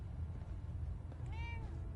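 A cat meows once in Fallout 4, a short rising-then-falling mew heard over a low ambient background hum, with no one talking.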